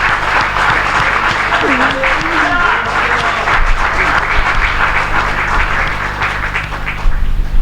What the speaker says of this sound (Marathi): काय टाळी बरोबर वाजली नाही? माझ्यासाठी नाही, त्याच्यासाठी वाजव.